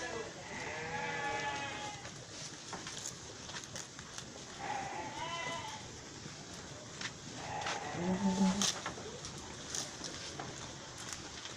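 Etawa goats on an Aceh Tamiang farm bleat repeatedly at close range, with wavering calls overlapping amid general farmyard noise and a person talking.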